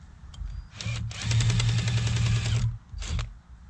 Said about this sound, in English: let me show you using this really cool drill